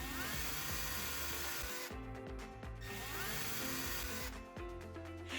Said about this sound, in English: pre-drill the 3 screw holes on the template marked with the number 1